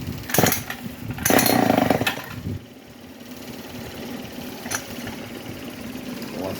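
Small 50cc two-stroke engine on a pocket bike being pull-started, with a couple of loud rasping cranking bursts followed by quieter mechanical noise, close up.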